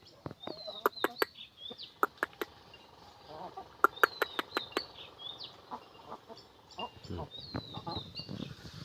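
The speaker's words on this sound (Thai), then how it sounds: "ไก่ยักษ์นะทุกคน" Brahma giant chickens cluck and call in a backyard farm pen, with scattered soft calls, sharp clicks and pecking sounds at close range while someone talks quietly.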